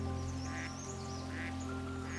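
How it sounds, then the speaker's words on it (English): Ducks on a Cotswolds town stream give a few soft quacks at a regular pace, faint against steady background hum and outdoor noise. "You've got ducks floating in the water here."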